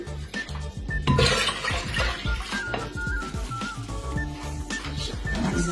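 Water is poured into a cooking pot for a potato and bean dish, splashing and rushing loudly up close with metallic clinks and knocks mixed in, no voices.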